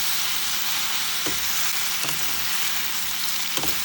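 Chopped ridge gourd sizzles and fries steadily in an uncovered pan, a continuous hiss broken by a few scraping stirs of a spoon, with no talking.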